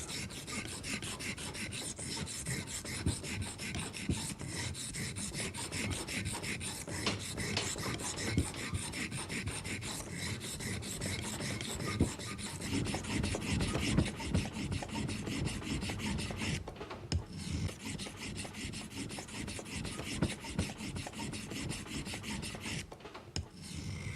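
A steel knife blade is ground and reshaped against a sharpening surface in long, continuous rasping strokes, close and even, with brief pauses and no speech.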